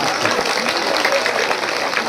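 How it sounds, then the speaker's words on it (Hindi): A crowd at a religious gathering applauding loudly, a dense continuous wash of clapping close and full throughout. "जोरदार ताली बजा करके चलिए।"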